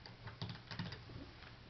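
Fingers tap out a brief reply on a computer keyboard, a few soft, quick key clicks in an uneven cluster, quiet and close, with no talking.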